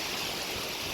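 Sariya waterfall near Devarapalli, Visakhapatnam, pours in a dense, continuous roar of rushing water, loud and steady across the whole brief moment with no voices.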